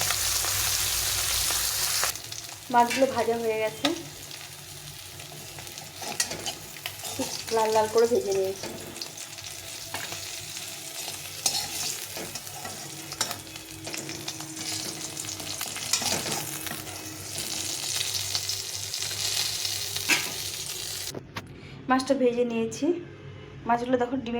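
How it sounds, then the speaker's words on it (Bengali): Fish fries in a little oil for a Bengali fish curry, crackling steadily in the pan while someone talks over it in several stretches. "মাছগুলো প্রথমে একটু ভেজে নেবো ভালো করে অল্প তেল ভেজে নিয়ে তারপর বেশি করে তেল দেবো"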